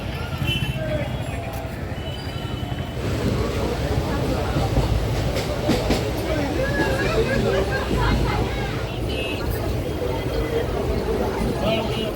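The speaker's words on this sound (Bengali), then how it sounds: "শেওড়াফুলি থেকে লোকাল ট্রেন ধরে চলে যাচ্ছি বালি" A local train ride in West Bengal: a continuous loud rumble of a moving suburban train with rhythmic wheel clatter, and a murmur of passenger chatter underneath throughout.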